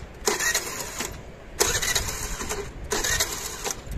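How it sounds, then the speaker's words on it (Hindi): An engine cranking repeatedly without catching while the accelerator is held fully down, three separate bursts of starter whirring with short pauses between them, close and fairly loud. "और अब इंजन स्टार्ट करने की कोशिश कर रहे हैं"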